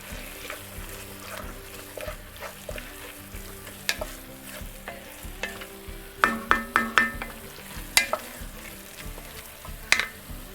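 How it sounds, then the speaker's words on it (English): Fish sauce and soy sauce are poured into a hot pan for a keto peanut curry chicken, sparking a steady close sizzle with clinks and scrapes of stirring against the pan. "And now you add your liquid, your fish sauce and your amino sauce or your soy sauce."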